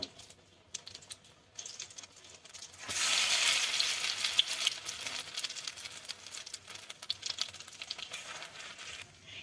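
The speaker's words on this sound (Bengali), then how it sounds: "তেলটা গরম করে নিয়েছি। এবার কফিগুলো ব্যাটারে জড়িয়ে এর মধ্যে দিয়ে দেব।" Battered cauliflower pakoras are dropped into hot oil, setting off a loud burst of sizzling and crackling that settles into steady, close bubbling frying with scattered pops; no one speaks.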